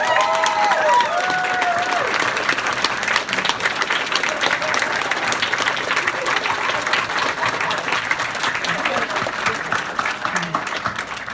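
A convention closing-ceremony audience applauds in sustained, dense clapping that fills the room, with a few brief cheers near the start.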